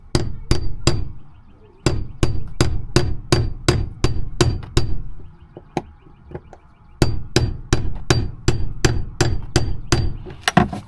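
Sharp metallic hammer taps on a securing tool, seating a fuel pump seal in a B6 Audi A4, strike in quick, even bursts, pausing briefly between runs of about ten blows each, close and loud.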